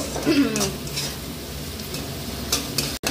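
Chicken pieces are stirred into spice paste frying in oil for a Bengali chicken bahari, giving a close, continuous sizzle with scraping stirs and a few light taps of a spoon on the pan.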